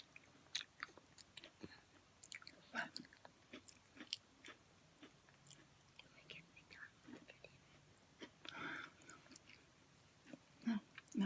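Someone bites and chews Flipsides Thins Parmesan Herb pretzel crackers, giving quiet, close, intermittent crunches amid soft whispered talk.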